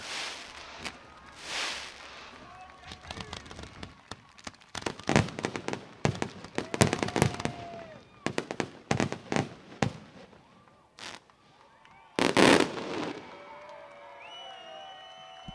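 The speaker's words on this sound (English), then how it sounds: "The fireworks, the confetti, the shower of NOS" Fireworks crackle and pop in rapid bursts at a speedway sprint car race celebration, with scattered loud bangs and a distant crowd murmur, some whistling streaks near the end.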